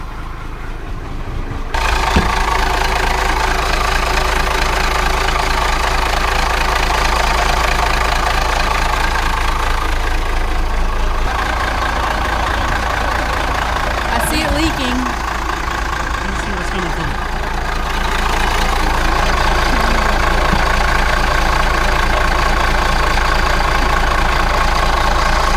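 A Monaco Dynasty RV engine running steadily after a restart, a loud, continuous low rumble and idle drone close by that holds through the whole stretch, with faint clanks and people talking underneath.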